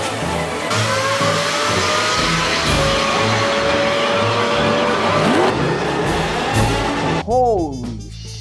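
A third-generation Toyota Tacoma pickup with an OTT tune accelerates hard, its loud engine roaring steadily for several seconds with tire squeal and rising revs, then easing off near the end.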